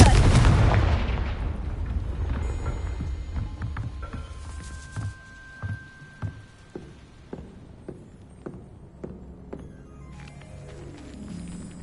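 A Confringo blasting spell cast in the Hogwarts Legacy video game: a dense burst of explosive noise that fades, then a series of sharp, evenly spaced cracking impacts with no talking.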